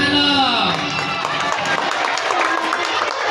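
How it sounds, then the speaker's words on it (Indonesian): Applause and cheering from a school audience at a Maulid religious talk, a dense steady wash of clapping with crowd voices mixed in, loud and continuous throughout. "Alhamdulillah, tepuk tangan dong."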